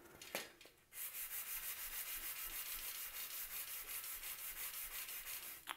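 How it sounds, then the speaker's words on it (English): Steady, rhythmic scraping of a 180-grit extra fine sanding sponge rubbed back and forth across aluminum closet door track, close up and continuous after a brief pause at the start. "I'm going to use this sanding sponge like this."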